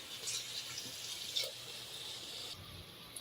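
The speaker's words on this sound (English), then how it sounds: "Now let us add 2 glasses of water." Water runs and splashes steadily into a cooking pot, a soft continuous pouring hiss with faint sloshing, fairly quiet.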